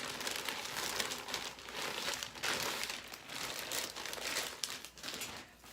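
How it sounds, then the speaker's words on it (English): Steady close crinkling of a big plastic bag as a hair bundle is pulled out, soft and continuous rustling with brief louder crackles, no speech. "Taking it out of this big bag."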